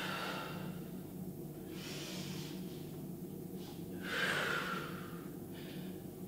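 Deep breathing during a home stretching and core mobility exercise: a few slow, close breaths in and out, airy and soft over a low steady background hum, with one stronger exhale near the end.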